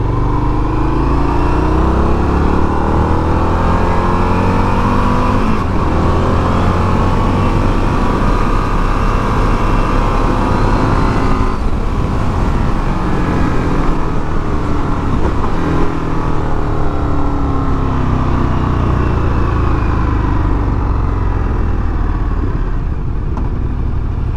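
A motorcycle ridden at speed, its engine drone loud and continuous with wind rush, rising and falling slightly in pitch as the throttle changes, no talk heard.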